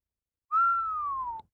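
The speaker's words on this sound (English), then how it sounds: "Mitchell let out a low whistle." A man lets out a single low whistle, one sustained note that slides gently downward for about a second, close and clear against silence.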